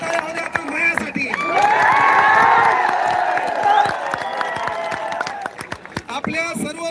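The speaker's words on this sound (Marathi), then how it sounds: "आणि एकदा जोरदार टाळ्या होत्या आपल्या मायासाठी." A large protest rally crowd bursts into loud, sustained clapping and cheering, swelling to a peak, then thinning into scattered claps with shouts and voices on top.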